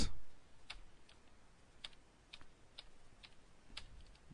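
Sparse keystrokes tapped on a computer keyboard while a command is entered at a Windows Command Prompt, faint, with single clicks spaced irregularly over a quiet background.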